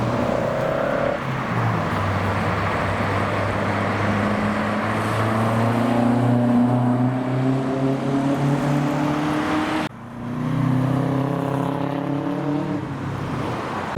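A genuine Mark 4 Toyota Supra drives past at a JDM car show, its engine rising through the gears in a strong, steady roar that dips briefly and then climbs again as the car moves by.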